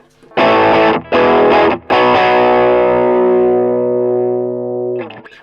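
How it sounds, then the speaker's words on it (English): Tube Screamer style overdrive pedal with level maxed and slight gain, into a 1970s Dallas Arbiter Lead 100 solid-state amp: three loud crunchy electric guitar chord hits, the last sustaining and fading, then a brief strum. "if I kick in just a Tube Screamer style overdrive with the level maxed out and a tiny little bit of gain"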